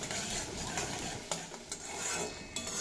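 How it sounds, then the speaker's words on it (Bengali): Onions softening in a pan for Bengali dal posto, with a steady low sizzle and occasional soft clinks of a spatula stirring, close and alone without talk. "তো এই পেঁয়াজ এবার বেশ নরম করে ভেজে নেব।"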